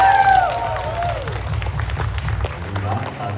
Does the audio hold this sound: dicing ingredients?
no